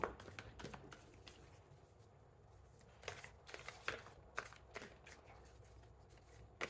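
Tarot cards being shuffled, quiet riffling bursts and soft flicks repeating close by, with no talking.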